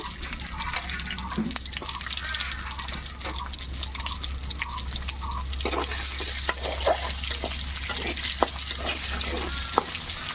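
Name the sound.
onions frying in mustard oil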